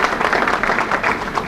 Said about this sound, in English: So can I hear a little round of applause for those three great people?